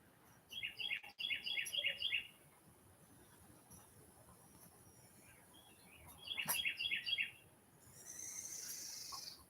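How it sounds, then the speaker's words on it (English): Birds sing out in a yard and nearby woods, two bursts of quick bright chirping trills a few seconds apart, moderately distant over a faint hiss with no voices. "them are birds just out in the yard and in the woods"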